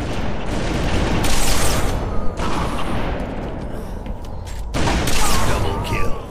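A sticky grenade blast in a Halo match, a loud booming burst with heavy rumble and debris, followed by another explosive surge later, with voices talking over the noise.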